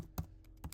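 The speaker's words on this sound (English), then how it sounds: "this is me starting to type an input" Two crisp clicks of fingers on a computer keyboard, close and quiet, spaced about half a second apart with faint lighter taps between.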